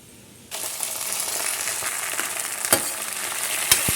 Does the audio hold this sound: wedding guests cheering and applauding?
no